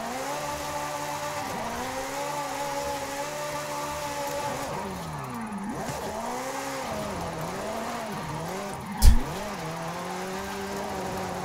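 A Ferrari engine drifting in the racing game Forza Horizon 5 holds a steady, sliding drone, with its pitch bending up and down as the throttle rises and falls, plus one sharp thump near the end.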